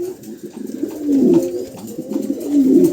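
A pair of pigeons at a bird market coo close by in low, rolling, repeated calls, loud and clear with no speech over them.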